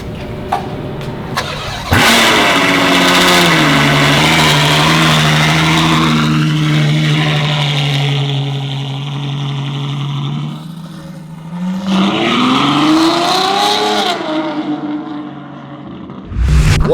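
Ferrari engine starting with a sharp bark, then settling into a loud sustained drone as the car drives off, rising again into a revving sweep before cutting out.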